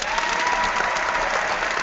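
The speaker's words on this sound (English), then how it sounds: "Let's do the applause again." A steady wash of crowd applause, dense and even throughout, with no pauses or voices breaking through.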